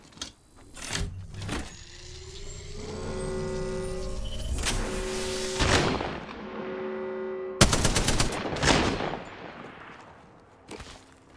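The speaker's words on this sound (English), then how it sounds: "Listen up, I'm getting shot at." Apex Legends gunfire comes as several sharp separate shots and short bursts, loud and close, spaced through the stretch, with whirring tonal game sounds rising between them.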